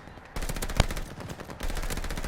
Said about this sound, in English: It looks insane with all those rounds shooting out.